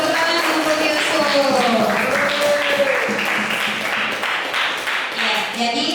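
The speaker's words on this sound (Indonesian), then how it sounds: "Tepuk tangan untuk Yusuf." Classroom applause, a group of students clapping in quick uneven bursts under a voice that carries over part of it, loud and close.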